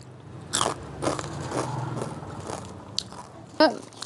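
Several crisp bites into a crunchy, noodle-like fried snack, a cheap homemade treat. The crunches come close and sharp at irregular intervals, with one loud final crackle and faint background noise.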